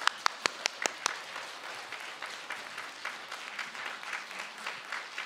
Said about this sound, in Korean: 강의를 진행해 주실 임기영 스님에게 박수 부탁드리겠습니다.